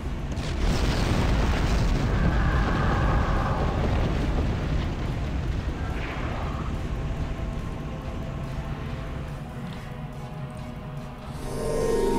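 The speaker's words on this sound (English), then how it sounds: "I love the Romulan plasma torpedo. It is such an awesome torpedo." Romulan plasma torpedo fired in the Star Trek Online space combat game, a loud, sustained booming rumble that swells and slowly fades over several seconds.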